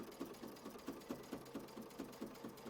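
Quilt block being stitched on a sewing machine, a quiet, steady run of rapid needle strokes with a regular pulsing rhythm, close by and alone.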